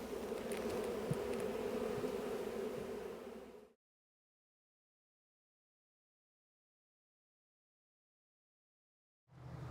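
A honeybee swarm drones as a steady, dense buzz for several seconds, then cuts to silence before the hum returns near the end.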